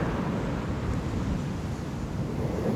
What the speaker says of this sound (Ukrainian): Хоч вітер і є, але він не холодний. Це доволі теплий вітер.